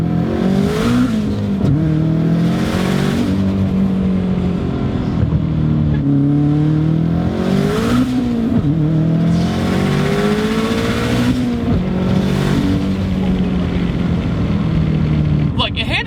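A 680-horsepower stanced Subaru with short second gear and wide camber revs hard while accelerating, its engine note rising and falling through repeated pulls and shifts, loud and close throughout, with someone talking over it.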